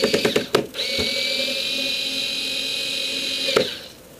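Power driver spinning screws back in to refit a venturi, a short whine of a few seconds after some clicks and taps, then a sharp knock as it stops.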